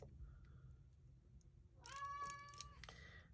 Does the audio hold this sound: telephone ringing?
no